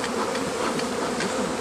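Dense, loud, steady buzzing from many honeybees at an open two-box hive in spring, heard up close with no talking.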